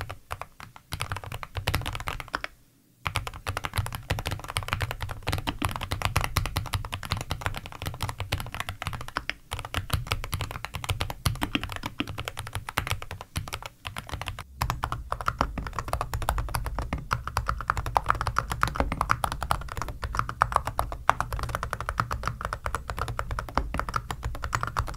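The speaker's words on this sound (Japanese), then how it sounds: "まずはノーマルのウーティング 80HE、 その次にメタルキーキャップのウーティング 80HE です。" Steady, fast typing on a Wooting 80HE keyboard, first with its standard keycaps and then with a full metal keycap set, a continuous close clatter of keystrokes broken only by a brief pause near the start.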